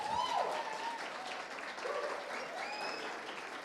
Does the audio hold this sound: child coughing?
no